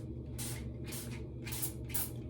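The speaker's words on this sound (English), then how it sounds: "we're gonna spray a little water" Four quick hissing bursts from a spray bottle misting water, evenly spaced, close by, with no talking.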